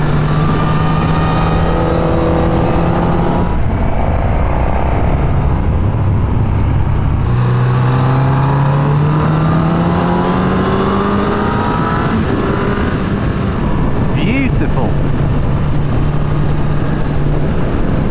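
Honda CB1000R motorcycles riding through the Sauerland, a loud continuous engine drone with rising and falling revs as gears change, close and unbroken throughout, with no talking.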